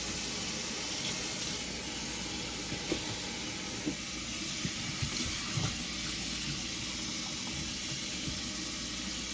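Steady hiss of tap water running into a kitchen sink as a raw Thanksgiving turkey is rinsed, with faint splashes and light handling bumps under the continuous flow.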